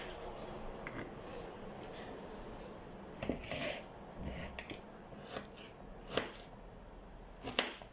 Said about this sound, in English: you're going to just cut up some ginger